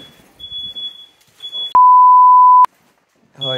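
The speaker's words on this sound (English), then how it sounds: "you've set fire alarm off" An electronic fire alarm in an abandoned school building sounds one loud, steady, sustained tone lasting about a second, with a fainter high beep and some muffled voices before it and a voice right after.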